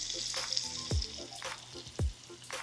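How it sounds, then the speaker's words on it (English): Shrimp fry in bacon grease in a skillet, a steady close sizzle with a few soft scrapes and knocks of a utensil against the pan, and no talking. "We're going to use all this delicious bacon grease to cook our shrimp."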